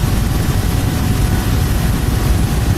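Bell UH-1 Huey helicopter in the DCS flight simulator game, a loud steady rotor and turbine drone with dense low-end thump running continuously throughout, no voices.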